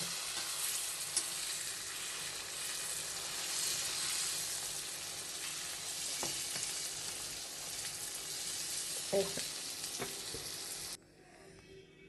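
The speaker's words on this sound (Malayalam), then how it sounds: "നമ്മൾ അടച്ച് വെച്ചിട്ട് ഈ മീൻ ഫ്രൈ ചെയ്തെടുത്തു" Fish frying in a covered pan gives a continuous close sizzle with a few faint knocks and clinks, then drops sharply quieter near the end.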